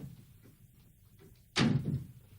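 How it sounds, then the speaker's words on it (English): A door slams shut with a single loud, close thud after quiet room tone, the impact ringing briefly before fading. "And close the door."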